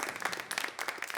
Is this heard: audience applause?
yes